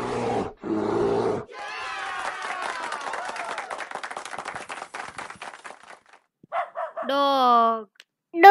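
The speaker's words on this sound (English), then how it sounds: "Dog. Dog." A dog barks in a quick run of sharp yips and rapid noisy bursts, followed by a few louder barks near the end, close and fairly loud.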